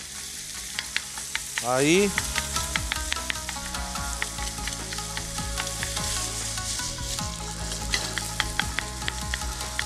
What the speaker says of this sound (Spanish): Aquí vamos a poner carne de pollo picada. Empezamos a saltear.